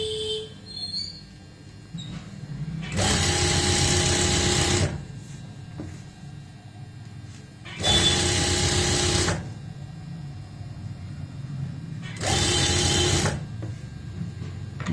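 A sewing machine stitches palazzo pants in three separate bursts of about two seconds each, a loud, close, steady whirr that stops and restarts, with quiet pauses between runs.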